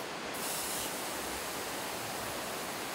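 Continuous loud hissing sizzle of a marbled steak searing on a camp grill, dense and steady throughout, with no talking.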